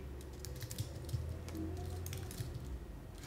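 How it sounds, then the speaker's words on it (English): Soft, rapid keystrokes tap out a terminal command on a computer keyboard while setting up a Raspberry Pi 4, quiet and close, with no voices over the irregular clicking. "we're going to type sudo dash e RaspberryPi"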